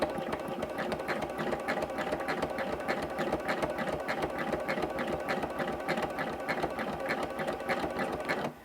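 Sewing machine with a clear couching foot locking stitches and then stitching yarn onto appliqué, a steady fast mechanical whir with rapid rhythmic needle clatter, close and loud throughout.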